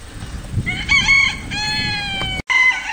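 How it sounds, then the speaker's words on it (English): A chicken in a netting-covered pen lets out a loud, close run of harsh, strained calls and clucks, with a brief break before one more squawk. "This has got to be the dumbest chicken I got."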